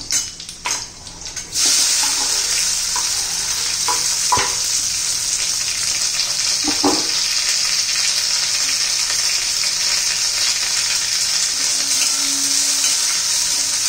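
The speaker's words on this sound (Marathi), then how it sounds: "आता लगेच बारीक तुकडे केलेल्या मिरच्या घालून घ्यायच्या आहेत आपल्याला" Chopped green chillies hit hot oil with garlic and fry in a loud, steady sizzle, broken by a few stirring knocks from a spoon against the pan.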